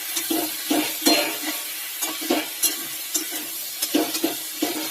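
Pumpkin, eggplant and potato pieces being stir-fried in a pan, with a soft sizzle under a rhythm of repeated spatula scrapes and stirring strokes, close by and without speech.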